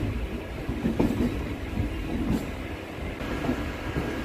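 Local commuter train running between Ranaghat and Krishnanagar via Shantipur in Nadia district, heard from onboard as a steady, fairly loud rumble with faint clickety-clack of wheels over rail joints and no speech.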